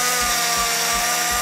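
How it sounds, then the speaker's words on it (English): An electric power drill whirs steadily at close range, its motor note holding constant with a faint pulsing rhythm throughout, loud and alone with no voices. "get yourself an electric drill."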